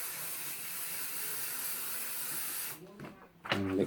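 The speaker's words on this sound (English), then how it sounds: "I'll just quick spray that again." A steady hiss of spray from an aerosol can runs for a few seconds and then cuts off, followed by a brief clatter.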